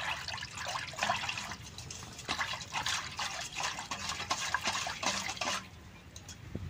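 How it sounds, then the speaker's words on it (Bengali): Turmeric stirred into water for soaking banana flower, with liquid sloshing, swirling and dripping in a close, steady run of splashy bursts and no talk. "এই জলের মধ্যে হলদি গুলে অল্প টাইম ভিজিয়ে রাখুন।"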